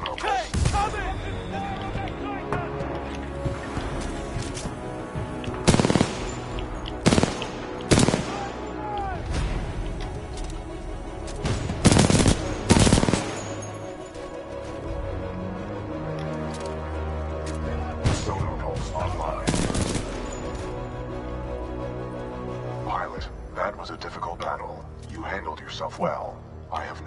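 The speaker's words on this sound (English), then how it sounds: "Commencing supporting fire." Supporting gunfire rings out in Titanfall 2 battle, with repeated loud bursts of shots and heavy booming impacts separated by short lulls and mixed with in-game voices.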